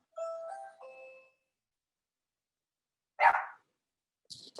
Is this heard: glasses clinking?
no